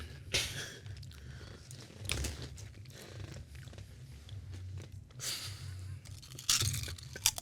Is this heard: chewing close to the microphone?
yes